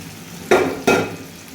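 Two sharp bursts of sizzling and scraping as taro is tossed and stirred in a hot pan, each fading into a quieter hiss.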